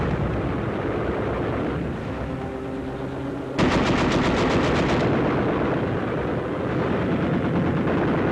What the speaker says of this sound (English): Under cover of machine gun fire,